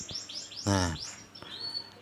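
A pet canary recovering from Newcastle disease gives several quick rising chirps, then a short buzzy call, then a thin whistled note. Someone says one short word over the calls.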